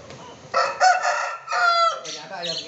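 Polish crested chicken crowing and clucking up close in a loud series of harmonic calls, with a faint voice in the background at the start.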